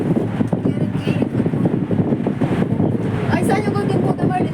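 Strong gusts buffet the microphone on a moving cable car, a constant roaring rumble with faint voices underneath.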